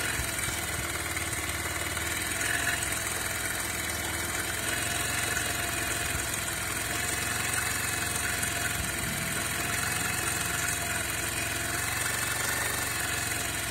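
A Bajaj Pulsar 150 motorcycle engine idles steadily nearby, a constant low mechanical hum with faint vibration and no talking over it.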